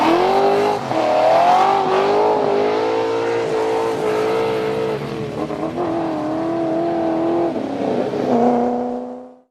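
A Ford GT Falcon engine revs loudly and close, its pitch climbing and falling through several sustained throttle sweeps before cutting off abruptly at the end.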